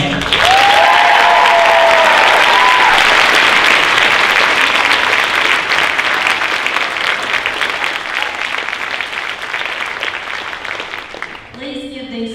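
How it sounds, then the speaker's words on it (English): An audience at the 2018 Bremen High School senior honors night applauds students in a loud, sustained round of clapping that gradually tapers off near the end, with a brief voice at the start. "Please give these students one more round of applause"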